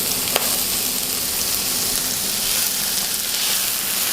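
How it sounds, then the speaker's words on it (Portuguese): Onion frying in butter in a frying pan already used for bacon, a loud, dense and continuous close sizzle with one small clink near the start and no voices. "nós vamos colocar a manteiga na frigideira, a mesma que eu já fritei os bacons, tá? Eu vou colocar cebola."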